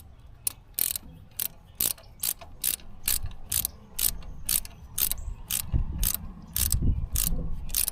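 A hand ratchet snugs engine mount bolts back up on a 2015 Ford Transit, a rapid series of loud, close clicking strokes in a steady back-and-forth rhythm, with no talking.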